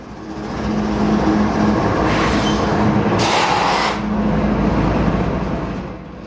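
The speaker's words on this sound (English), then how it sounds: "These diesel-electric locomotives are hitched together. This train requires 4 locomotives." A freight train hauled by four coupled diesel-electric locomotives rolls past, a broad steady rumble and roar swelling in loudness, with a low engine drone and brief brighter hiss midway, no voices.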